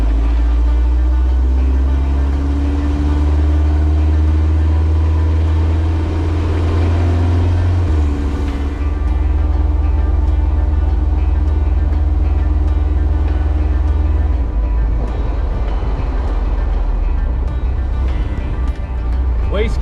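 Kubota V2403 diesel engine with boost and fuel adjustments, no wastegate, during a hill climb test: a loud, continuous low drone that labors and shifts pitch as the load changes, with a voice speaking over it.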